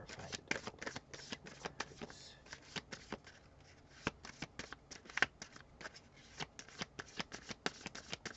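Tarot cards riffle and shuffle close by, a quiet, rapid run of papery flicks and snaps in uneven bursts, with no talking over it.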